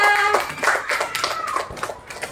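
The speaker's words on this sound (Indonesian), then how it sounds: "tepuk tangan untuk Ainun dan Nafika" A class claps for two students in a school lesson, a short burst of scattered hand claps fading into a few sparse, uneven taps.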